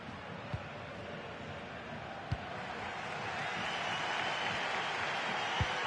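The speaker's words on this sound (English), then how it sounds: "The crowd certainly think so. Just listen to them." A stadium crowd in the FC24 football video game roars as a steady, dense wash of cheering that swells slightly in the second half, with a few sharp thuds breaking through.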